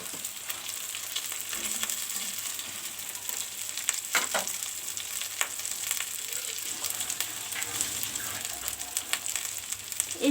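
Leftover cooked rice fries in a hot pan with a steady, close sizzle that crackles throughout, broken by a few sharper bursts of stirring, with no voices over it.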